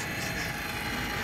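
An old gaming PC runs loudly, its fans giving off a steady, dense whooshing roar much like a helicopter. The noise is close and continuous with no talking.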